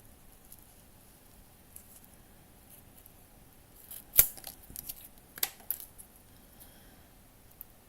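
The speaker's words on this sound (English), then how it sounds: "we need to cut that little circle out like a little plate" Small scissors snip a tiny circle from paper for a miniature room-box plate, with faint, sparse, crisp clicks and one sharper snap midway against near silence, close but quiet, with no talk.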